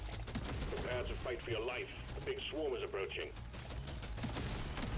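Continuous rapid fire from an assault rifle in Deep Rock Galactic: Survivor, a dense, fast rattle of shots at moderate volume, with someone talking over the middle part.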